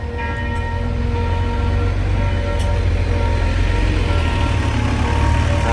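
A large Mercedes-Benz bus engine idles steadily with a low, constant rumble and a faint hum, and a couple of brief clicks are heard.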